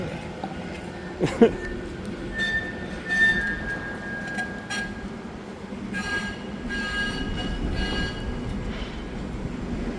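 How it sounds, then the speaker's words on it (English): Trams run through Manchester, with rumbling rail noise, a brief wheel squeal and clanks passing by at moderate distance. The rolling sound continues steadily while voices murmur faintly in the background. "There we are, Manchester, the trams."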